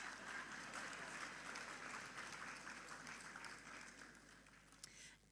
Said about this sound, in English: That's fine, just clap.